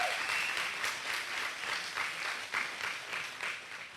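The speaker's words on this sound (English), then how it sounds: "Give them a round of applause." Audience applause for veterans at a county clerk's luncheon, a steady wash of many hands clapping throughout, fairly loud and sustained with no voices over it.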